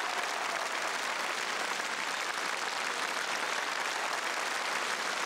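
A concert audience applauds a singer with continuous, uniform clapping, steady and fairly distant throughout the clip.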